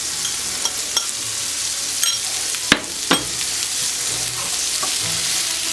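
Shrimp, garbanzo beans, spinach and oil-packed sun-dried tomatoes cook together in olive oil in a pan over low heat, giving a steady close sizzle with a few sharp utensil scrapes and knocks, and no voices.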